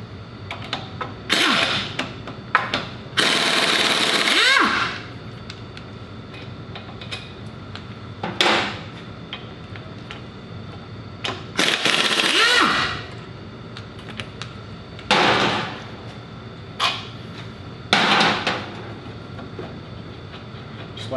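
An impact tool works the brake caliper bolts on a 2002 Ford Explorer front hub, firing in several loud, harsh bursts of a second or two each, separated by quieter gaps.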